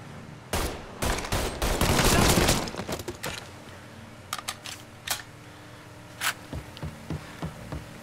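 Several bursts of gunfire in Mafia 3, a loud rapid volley early on followed by scattered single shots spaced apart, with faint background game ambience between them.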